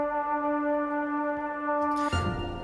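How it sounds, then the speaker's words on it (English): A heavily filtered string flautando pad from a Chamber Strings library holds one soft, sustained tone for about two seconds, then gives way abruptly to a brief noisier burst. "Then I've used my classic string flautando patch from Chamber Strings."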